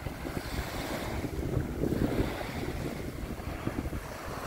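Steady wind and surf along the Lake Victoria shore on a cool morning, a continuous broadband rush with soft gusts and lapping waves close to the microphone, with wind buffeting; no voices.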